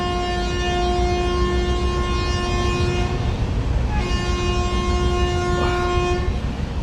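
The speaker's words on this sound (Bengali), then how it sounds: "ট্রেন ছেড়ে দেবে সিগন্যাল হয়ে গেছে" The Howrah–Chennai Mail pulls away from a station, a loud sustained horn blaring over rumbling wheels and clattering cars, with a second horn blast after a brief break.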